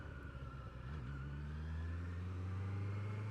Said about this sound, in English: rather nice high revving four-cylinder engine